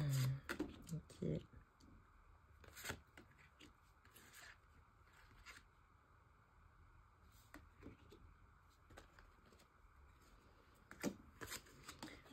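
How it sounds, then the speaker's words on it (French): Tarot cards handled and laid out on a table: soft, scattered slides, taps and card flicks, quiet and close, with a few sharper clicks and brushes throughout. "je vais poser les cartes là"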